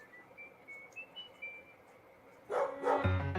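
Faint birds chirp in a quiet space, then a dog breaks in with a couple of loud, close barks at the end.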